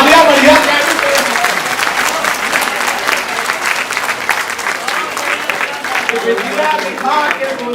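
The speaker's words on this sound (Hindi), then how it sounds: "तालियां बढ़िया" Audience at a Hindi stand-up comedy show claps loudly and continuously, a dense wash of applause with some voices and cheers mixed in, gradually thinning toward the end.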